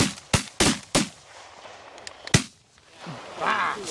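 Shotgun blasts during a duck hunt: three quick loud shots, then a fourth after a pause, each sharp and close, with some quieter pops and rustling between them.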